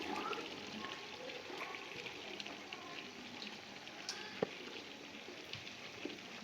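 Cauliflower stir-fried in a pan for a gobi chicken dish, giving a steady, even sizzle of frying with faint scattered ticks and pops, no voices.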